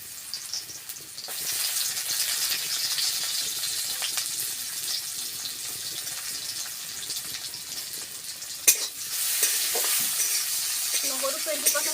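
Ginger and garlic sizzle steadily in a hot pan for an Assamese recipe, with continuous crackling, stirring scrapes and a brief utensil clatter near the end, close and without talk.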